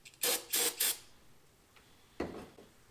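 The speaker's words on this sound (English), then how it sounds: "So now I'm going to use some brake clean and clean that off of the rod cap and the journal" Brake cleaner sprayed onto a connecting rod cap and crank journal during a BMW 335i N54 engine rebuild: three quick, loud hissing bursts close together, a quiet pause, then one more shorter spray.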